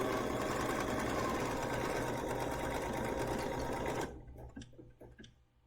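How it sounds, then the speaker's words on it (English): A Bernina sewing machine runs steadily at slow speed sewing a single straight stitch, a continuous close mechanical whir for about four seconds before it stops and a few soft ticks and clicks trail off. "First, I'm going to sew it single stitch."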